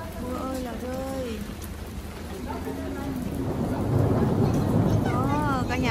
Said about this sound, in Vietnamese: những giọt mưa vẫn còn lăn tăn lớn lắm nè cả nhà